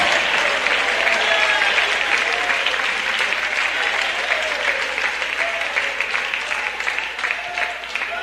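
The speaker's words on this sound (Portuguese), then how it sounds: "batam palmas e glorifiquem a Jesus." A church congregation at a Portuguese-language service claps hands together in a loud, dense, continuous burst of applause that holds steady for about eight seconds, with faint voices mixed in.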